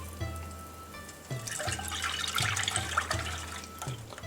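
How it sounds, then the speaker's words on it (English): Soy milk pours into a pot on a stove at low to medium heat, a steady liquid splash and trickle building after a faint start, with a repeating low thump underneath. "today we're going to add in our soy milk"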